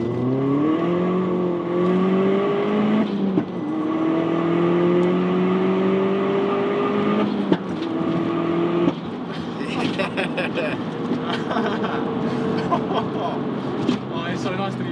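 A Stage 2 VW Golf Mk4 GTI accelerates hard from inside, its engine note rising through gears with brief shift breaks, then turning rougher and more turbulent as voices talk over it.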